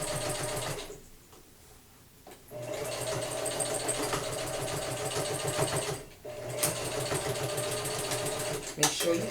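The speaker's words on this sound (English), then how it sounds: "you're going to just do a top stitch right here to stabilize the elastic" A sewing machine top-stitches over elastic at the seam of a waistband in two bursts of rapid, mechanical chattering. Each burst is separated by a short pause, and the machine is close and fairly loud.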